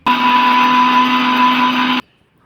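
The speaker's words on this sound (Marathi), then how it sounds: "थोडं पाणी घालून डाळ बारीक करून घेऊ." Mixer grinder grinding soaked chana dal with a little water to a coarse texture, a loud steady whirring drone lasting about two seconds and then cutting off abruptly.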